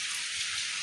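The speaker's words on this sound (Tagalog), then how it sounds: "Musugod na gyud ang ulan." Steady rain falling over farmland, an even broadband hiss throughout the short stretch with no voices.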